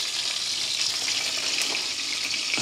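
Butter melts over low heat in a pot with boiled potatoes, giving a steady, bright hiss and sizzle. The sound is close and continuous, with no talk.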